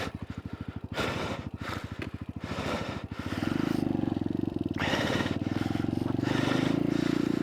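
A Kuba Race 125 motorcycle engine idles on a mountain climb with a steady low throbbing pulse, growing slightly louder partway through, while someone breathes heavily close by.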